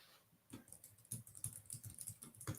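Computer keyboard typing, a rapid irregular run of light key clicks at close range, fairly quiet, with no voices.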